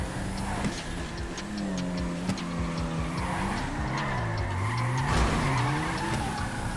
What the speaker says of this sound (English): I can't drift a front wheel drive.